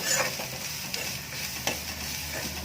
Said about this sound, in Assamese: অকণমান বাদামকেইটা তেল সোমোৱালৈকে ভাজিম।